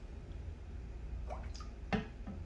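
A can of soy protein drops into a container of water with a small splash and a few drips and gurgles. The sounds are close and brief over a low background hum.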